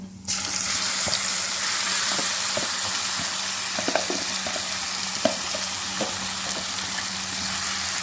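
Okra tossed into hot oil with cumin and asafoetida, a loud continuous sizzle with occasional scrapes and stirring clicks from a pan, close and steady throughout.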